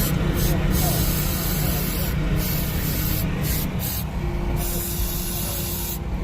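Mass airflow sensor cleaner sprays in a loud, steady hiss close by, running almost unbroken for several seconds over a low background rumble.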